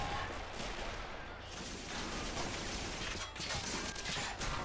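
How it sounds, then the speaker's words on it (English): Heavy machine gun fire rattles continuously in a Men of War battle set during the 1939 German invasion of Poland, a dense, loud mechanical chatter filling the whole stretch without pause. "Oh, I love the sound of that somewhat heavy machine gun firing."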